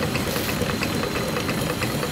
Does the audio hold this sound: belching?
no